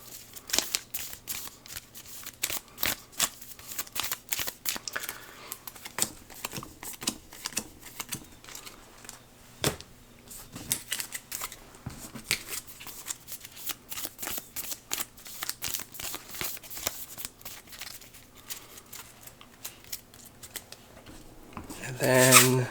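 A deck of tier 2 cards for the Aeons End board game shuffled at close range, a long run of crisp riffling bursts and rapid clicks continuing for over twenty seconds.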